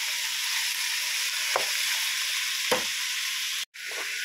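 Pork sizzling in a pan as it is sautéed and stirred for adobo: a steady, close frying hiss broken by a few brief scraping stirs, with no talk.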